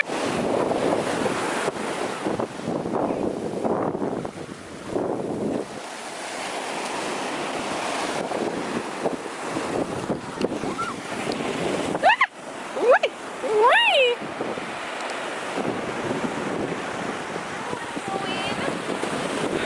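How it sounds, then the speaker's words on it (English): Surf rushes and rolls onto a beach at Montego Bay, Jamaica, in a steady roar, with wind buffeting the microphone and a few brief high-pitched voices cutting through midway. "The wave is kind of rough, but it's nice."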